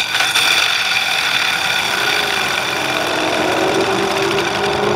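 A ball-bearing three-sectional bo staff flicked and left spinning, giving a steady, loud whirring drone with a faint rising whine that holds for the whole stretch without a break.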